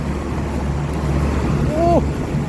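A Kubota DC93G combine harvester engine idles with a steady, smooth low drone close by, while someone talks over it.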